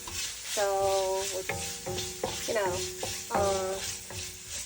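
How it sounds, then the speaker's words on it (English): Pork fat fries slowly in a pan while being stirred, with a bright sizzle underneath and repeated squeaky scraping strokes; a voice speaks briefly. "Yeah, slowly fry the fat out."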